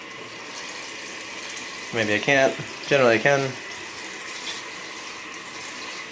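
Cold water rushing steadily through a wort chiller during a homebrew boil and out into a drain, a constant broadband flow that continues beneath two short bursts of a man's speech.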